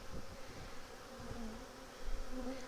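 Honey bees buzz around an opened hive during a colony inspection, a soft, steady drone with a few higher whining tones from individual bees close by. There is no talking.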